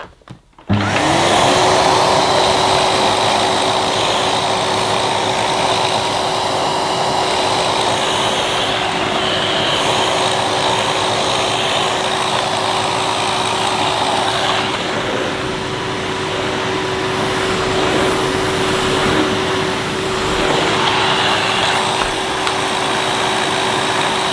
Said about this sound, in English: I'll test the turbo electric head again